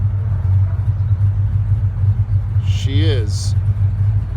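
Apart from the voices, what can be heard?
1937 Ford restomod hot rod engine idling rumble after cold start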